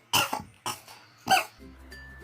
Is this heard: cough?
yes